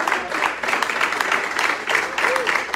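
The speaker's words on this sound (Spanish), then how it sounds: "denle un fuerte aplauso, Señor." Steady applause from a church congregation during a service, a dense continuous clatter of hands at moderate level with a faint voice briefly underneath.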